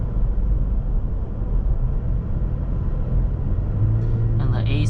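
A 2017 Toyota Tacoma TRD Off-Road pickup drives along easily, its engine and road noise making a steady low rumble from inside the cab, with a brief higher whine near the end.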